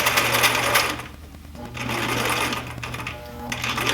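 Domestic sewing machine back-stitching the end of a sleeve seam on a sloper garment, a steady close mechanical whirr with a short pause midway before it runs again.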